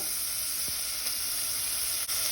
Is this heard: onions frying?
yes